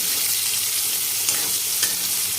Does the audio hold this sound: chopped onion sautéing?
yes